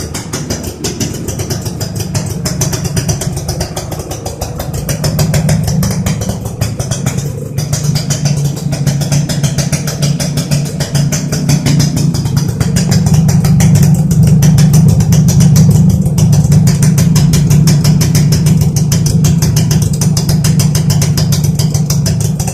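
A Suzuki AX 100 motorcycle, freshly rebuilt, idles steadily nearby with a continuous low engine hum for the whole stretch, growing slightly louder and fuller in the second half.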